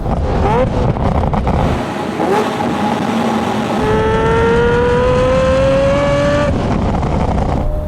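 A TWR Supercat, a 650 bhp V12 Jaguar XJS, revs loudly with throttle blips, its engine note rising and falling under heavy wind noise, apparently recorded from inside the car on the road.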